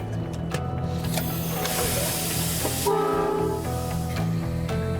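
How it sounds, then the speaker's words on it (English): A heavy 600-tonne salvage train in Australia rumbles along with steady low mechanical drone, clanking and a hissing burst partway through; continuous and fairly close. "600-tonne salvage train is on the move"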